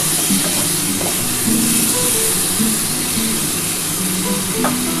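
Lote fish curry with potato and eggplant sautéing in a hot pan, giving a loud continuous sizzle and hiss with faint scraping as the mixture is stirred.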